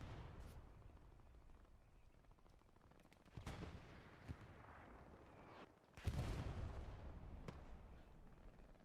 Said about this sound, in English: Artillery's being a pain by the looks of it.